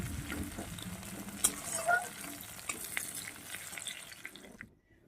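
Food fries in a pan before dal is added to it, with a steady sizzle, stirring scrapes and a few clinks running throughout before fading out at the end.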